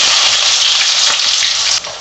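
Chopped onions sizzle loudly in hot oil in a pan for a chicken curry, a dense continuous crackle with occasional stirring clicks, dropping quieter abruptly at the end.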